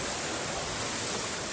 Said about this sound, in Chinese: 我们已经听到那个瀑布声了。 这个就是我们要看的第一层瀑布。